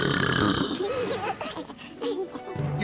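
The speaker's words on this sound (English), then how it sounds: "You probably don't even know how to burp them." A cartoon baby lets out a loud, drawn-out burp followed by giggly squeals, with a cartoon voice speaking just before.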